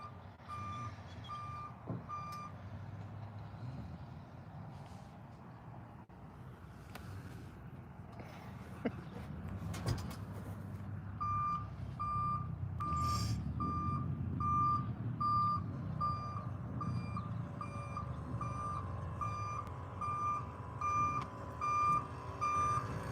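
A truck's reversing alarm beeps in a steady, evenly spaced series over a low engine rumble, starting faintly and then repeating loudly for several seconds, with the truck backing up nearby.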